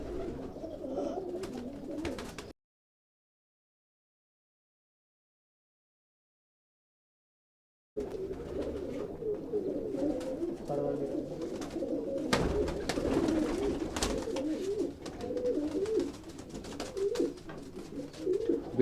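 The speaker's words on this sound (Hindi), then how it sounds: "ये भी भाई इनका मौका भाई का बहुत ही फेमस कबूतर है" A famous male pigeon from a fancier's loft coos in low, throaty rolling calls close by, with a silent gap partway through before the cooing resumes steadily.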